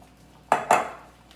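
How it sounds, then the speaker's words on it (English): A utensil knocks and scrapes twice in quick succession against a mixing bowl while egg yolk and vanilla extract are cleared out for a single chocolate chip cookie, with the clatter close and sharp and fading quickly. "Always want to scrape every little last bit out."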